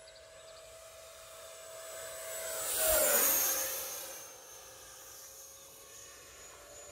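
An E-flite F-16 Thunderbirds 70mm electric ducted-fan RC jet makes a low flyby. A high whooshing whine swells steadily, peaks near the middle as it passes close with a Doppler drop in pitch, then fades into steady background hiss.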